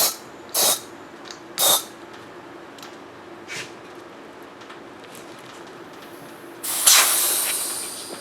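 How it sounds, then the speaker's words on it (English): Air hisses in short bursts into a motorcycle inner tube, two quick puffs and a faint one followed by a longer, louder hiss that slowly tapers off. "let me put a little bit of air pressure in this hose, in this tube, to get any kind of wrinkles that might be in it"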